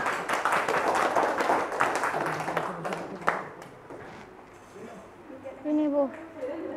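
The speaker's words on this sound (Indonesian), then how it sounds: "Tepuk tangan untuk kelompok" Classmates in a school mathematics lesson clap for a presenting group: a brisk burst of many hands lasting about three seconds, which fades as people begin talking.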